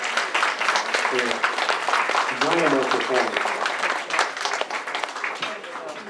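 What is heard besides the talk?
audience applause for choir performance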